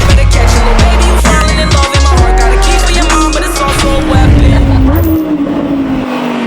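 A Porsche Carrera GT engine, loud and close, revving through a gear change with a rising then dropping pitch and a brief break as it shifts, road and wind noise throughout.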